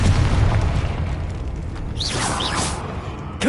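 A Confringo fire spell exploding in the Hogwarts Legacy video game, a deep booming blast with rumbling debris, followed by swooshing magical whistles and pops.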